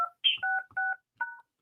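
Telephone keypad tones ring out as a conference number is entered: four distinct beeps in a quick uneven sequence, clear and isolated with silence between.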